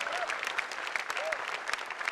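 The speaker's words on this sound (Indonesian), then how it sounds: "Mana tepuk tangannya buat nomor 14?" Audience applause for a contestant at an Indonesian televised singing competition, a short burst of steady, dense clapping with a few faint voices mixed in.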